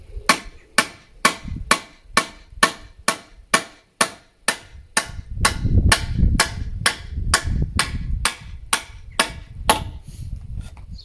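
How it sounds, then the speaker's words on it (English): Rubber mallet tapping snug swing seat frame parts together, about twenty evenly spaced sharp knocks in a steady rhythm, close and loud, with a low rumbling background building under the second half. "If you've got a rubber mallet, you can use a rubber mallet."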